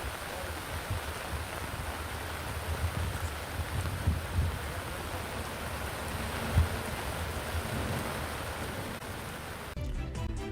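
Heavy monsoon rain pours steadily in Mumbai, a dense continuous hiss with occasional louder splashes, cutting off abruptly near the end.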